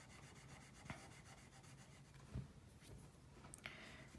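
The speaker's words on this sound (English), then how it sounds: "Can you hear the sound of the colored pencil?" Colored pencil rubs across a coloring-book page in soft, continuous scratchy strokes, close and faint, with a couple of light taps.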